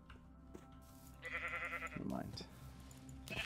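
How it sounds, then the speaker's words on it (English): Sheep bleat in Minecraft, a few short wavering cries at moderate level while a player talks over them. "Where's that sheep? Oh, here, two of them."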